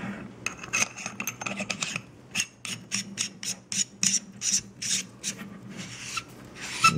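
A metal flashlight tail cap is screwed onto its tube, with quick scratchy clicks of the threads followed by a series of short rhythmic rasps as the O-ring rubs and grips, close and alone.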